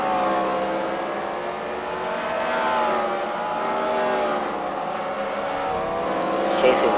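Race cars in a CWRL Fight Night main event at The Freedom Factory roar steadily around the track, a continuous layered engine drone with rising and falling pitch as cars chase each other, with a brief louder burst near the end.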